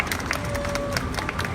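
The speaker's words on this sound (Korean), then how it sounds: "박수 한번 부탁드리겠습니다." An outdoor crowd at a candlelight political rally in Daegu claps together, a dense, brief burst of hand claps at steady volume with no talk over it.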